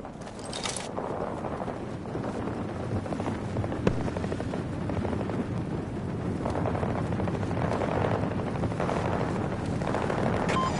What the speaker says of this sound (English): Extraction aircraft on the ground